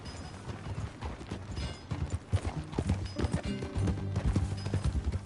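Horse hooves clip-clop in an uneven trotting rhythm in the video game Red Dead Redemption 2, fairly loud and close, with soft ambient sound beneath.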